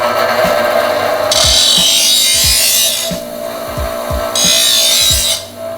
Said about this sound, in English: Now we just go ahead and deburr.